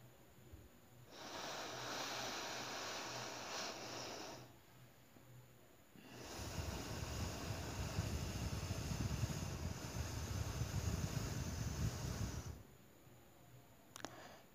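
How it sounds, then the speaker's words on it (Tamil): Slow pranayama breathing through one nostril: a long soft airy inhale lasting a few seconds, a pause, then a longer, louder breath, close to the microphone with no talk. "இடது நாசி வழியாக மூச்சை மெதுவாக இழுக்கிறோம்"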